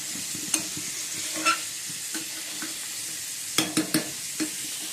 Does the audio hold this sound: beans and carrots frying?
yes